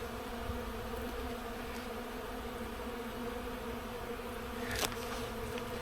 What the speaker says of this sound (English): Bees are being really calm.